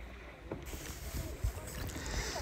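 A small boat drifting slowly along a river on a company trip in Poland, with soft steady water wash and light wind noise on the microphone, fairly quiet with faint sounds of people nearby.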